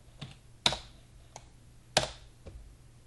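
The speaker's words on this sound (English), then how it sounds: "I hit my keyboard very loudly" Keys on a computer keyboard clack loudly and sparsely, six separate strikes with two especially hard ones, close up in a quiet room.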